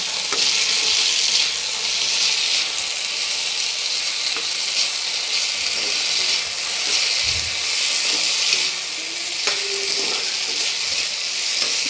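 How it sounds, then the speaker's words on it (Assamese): Potatoes fry in a pan with a steady, loud, close sizzle and hiss that runs continuously, with a faint occasional clink of a utensil. "লুচিৰ লগত আলু ভাজি বনি আছে।"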